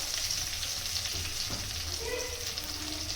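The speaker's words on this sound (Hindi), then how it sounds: "अब थोड़ा सा भुन जाएगा ना" Chilli and garlic roast in a pan for thecha, a continuous steady sizzle and frying hiss with faint stirring scrapes, even in level throughout, no talk.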